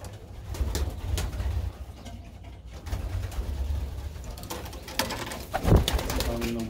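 Pigeons coo softly inside a loft, low and muffled against a background hum, with one brief louder call near the end.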